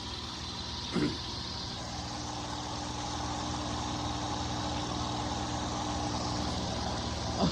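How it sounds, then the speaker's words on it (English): A P-51 Mustang aircraft engine drones steadily at a distance, a low continuous hum heard faintly as if over a broadcast line. "basically on the air right now, we've got a P51 Mustang engine"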